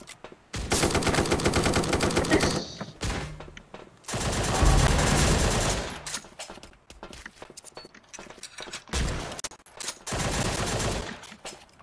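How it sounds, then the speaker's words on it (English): Sniper rifle gunshots in the Surviv.io browser game, loud and heavily layered with other game gunfire, coming in several dense multi-second bursts separated by brief pauses. "I'm gonna shoot them with a sniper rifle."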